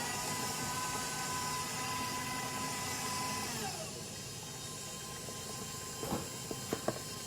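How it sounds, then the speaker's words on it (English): An electric mixer runs steadily on low speed, beating confectioners' sugar into cream cheese frosting for a carrot cake; the motor drone dips partway through, and a few sharp clinks of a beater against the bowl follow near the end. "Put the mixer on low, and then just put in my confectioner sugar."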